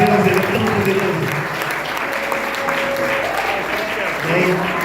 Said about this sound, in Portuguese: Você pode aplaudir mais uma vez?